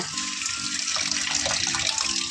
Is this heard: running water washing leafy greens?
yes